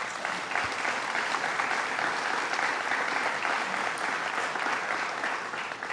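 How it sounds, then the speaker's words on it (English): A crowd applauds steadily in a theater, a dense wash of clapping that holds at full strength throughout. "Let's give him a round of applause."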